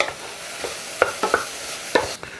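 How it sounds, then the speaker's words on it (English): A spoon stirs pepper and cayenne into soup for acorn squash and apple soup, a few sharp clinks and scrapes against the pot over a soft background sizzle. "Stir all that together."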